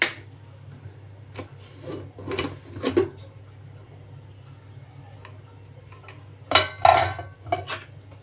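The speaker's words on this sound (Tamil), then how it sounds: "கரண்டியால் நல்லா இந்த மாதிரி கலக்கி நல்லா மசித்த மாதிரி மத்து போட்டு கூட நல்லா கடைஞ்சிக்கலாம்." A ladle clinks against a pressure cooker pot as cooked toor dal for sambar is stirred and mashed, with a few sharp scrapes in bursts separated by quiet gaps over a steady low hum.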